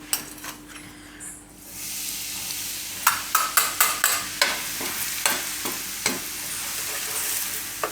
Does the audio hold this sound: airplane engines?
no